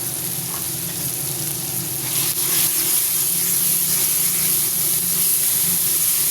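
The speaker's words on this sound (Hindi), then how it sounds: "इसको भी भून लेते हैं।" Chili powder, turmeric and salt sizzle steadily in a hot pan, a continuous close crackling hiss that swells slightly partway through, with no voices.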